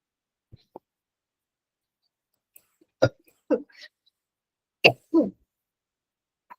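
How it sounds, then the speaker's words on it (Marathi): A teacher in a physics class coughs twice in quick pairs, short dry bursts close to the microphone, with a few faint clicks in an otherwise quiet room. "सॉरी, मला खोकला आला."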